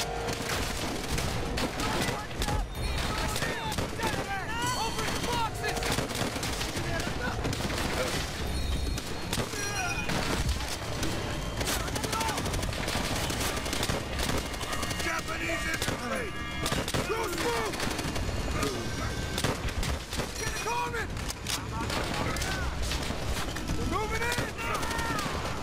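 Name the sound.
gunfire in a video game (Call of Duty World at War)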